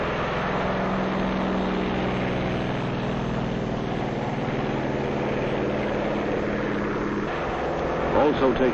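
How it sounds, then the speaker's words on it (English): Loud, steady roar of 1946 propeller aircraft engines at full power as planes take off from an aircraft carrier, filling the whole clip with a dense mechanical drone. "Also taking off from the carrier are control planes"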